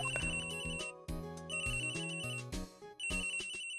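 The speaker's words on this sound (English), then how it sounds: "Please pick up the phone." Phone ringtone in the Phoenix Wright: Ace Attorney video game, a melodic electronic tune repeating in short phrases with brief gaps between them, clear and fairly loud, with no talk.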